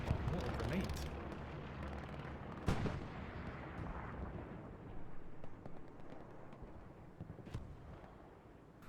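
Grenade blasts in a World War II shooter match on Utah Beach: a sharp loud burst near the three-second mark and another near seven and a half seconds, over dense continuous gunfire and battlefield rumble.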